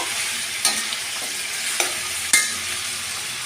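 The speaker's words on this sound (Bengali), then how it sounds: "আর দেব টমেটো কুচি। দিয়ে আমি বেশ কিছুক্ষণ নাড়াচাড়া করব।" Chopped tomato and onion are stirred into chicken in a hot frying pan, a steady sizzle broken by three sharp spatula scrapes against the pan, close with no voices.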